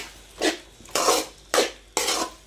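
A spoon scrapes and swishes through cauliflower batter mixed with sauce in a bowl, four distinct stirring strokes in an uneven rhythm, close and fairly quiet.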